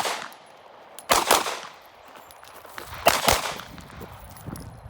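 A Glock 45 pistol fires while the shooter moves on a range: two sharp, loud shots about two seconds apart, each ringing out with a short echoing decay, and no talking.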